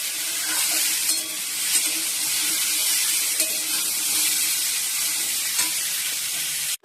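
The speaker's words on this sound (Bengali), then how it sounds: "আর কড়াইতে পেঁয়াজটা একটু ভেজে দিচ্ছি" Onion frying in a wok (kadai) in a home kitchen: a loud, dense, continuous sizzle held close for several seconds with faint scrapes, cutting off abruptly at the end.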